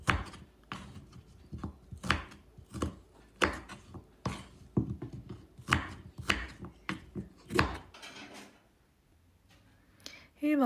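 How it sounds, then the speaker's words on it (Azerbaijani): A knife cuts through quince, trimming out the hard core for pickled quince, in a rapid series of close, sharp strikes on a board that stop near the end, leaving quiet. "İçərisinin sərt yerini kəsirəm ki, yumuşaq qalsın"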